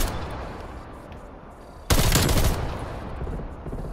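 Burst-fire gunshots ring out on Nuketown in Call of Duty Black Ops Cold War, a loud sudden burst of rapid shots over quieter ambient game noise.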